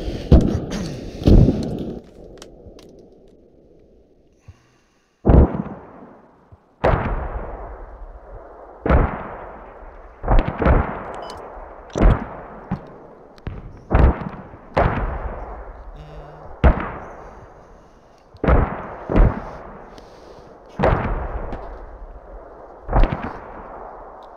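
Machine gun and artillery fire in a tactical shooter game: a string of sharp, booming impacts and bursts with ringing decay, some near and loud, spaced irregularly over about twenty seconds, with occasional faint talk.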